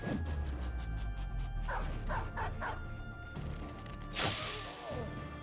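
A war dog in the video game Battle Brothers barks and yelps in a quick series of short calls amid battle noise, ending with a loud crash.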